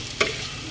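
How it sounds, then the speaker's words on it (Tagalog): A beaten egg hits a hot pan while being scrambled and fried, giving one short, bright sizzle burst followed by a soft steady frying hiss. "Scramble na egg."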